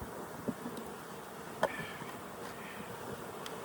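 Honeybees buzz around an open hive in Colorado, a faint continuous drone with a few brief clicks and knocks nearby.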